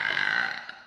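A girl lets out a single short, loud, close burp that trails off quickly.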